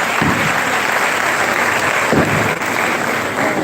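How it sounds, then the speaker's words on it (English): An audience at a university retirement ceremony applauds theatre students from the University of Benin, dense clapping that stays loud and steady throughout, filling the hall with no voices above it. "give them a round of applause?"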